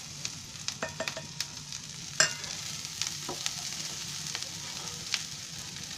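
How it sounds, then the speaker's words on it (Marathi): Grated fresh coconut being roasted and stirred in a pan for a Konkani chicken masala, a faint, steady sizzle with soft scraping strokes and occasional light clicks of the spoon against the pan. "आता मी त्याच्यामध्ये हे ओलं खोबरं आहे ना किसलेलं, 1 वाटी खोबरं आहे, हे टाकते आता भाजायला"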